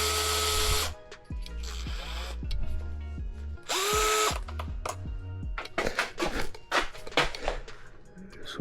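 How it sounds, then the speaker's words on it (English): Power driver whirring in short bursts as it backs out 2 mm hex screws from the body mount of a Redcat Vigilante RC truck, two longer high-pitched runs with clicks and handling clatter between, close and alone. "So just gonna remove those 2 screws. Those are 2 millimeter hexes."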